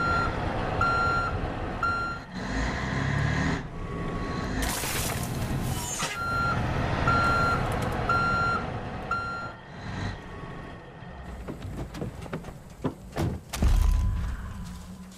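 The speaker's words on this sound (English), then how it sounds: "seeing my dad's truck rumbling home sure brings back memories" A truck in Far Cry 5 maneuvers with repeated reversing beeps sounding in a steady pattern over an engine rumble, joined by thumps, an air brake hiss and door-like clunks.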